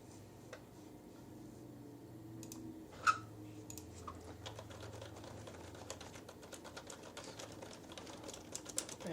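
Typing on an NXT Technologies wireless keyboard produces a quiet, continuous patter of rapid key clicks with an occasional louder tap, heard close up and without speech.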